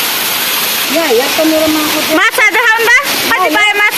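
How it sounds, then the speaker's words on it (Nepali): A waterfall roars continuously at close range, a steady wash of water noise under people talking loudly over it. "झरना"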